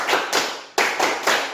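A classroom group claps a rhythmic spirit clap in unison, three sharp bursts of many hands with brief gaps, loud and close, with no talking.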